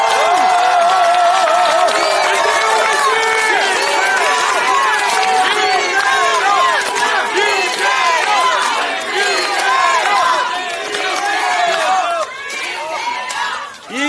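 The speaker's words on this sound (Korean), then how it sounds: "큰 박수와 함성을 부탁드릴까요?" A large crowd claps and cheers continuously and loudly at an outdoor Democratic Party press event in South Chungcheong, Korea, a dense wash of applause and shouting that tapers slightly at the end.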